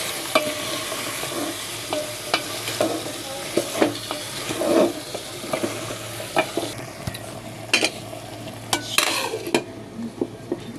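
Vegetables tossed into a pan of spiced oil and stirred, giving a steady close sizzle with repeated sharp spatula scrapes and clacks against the pan, no voices.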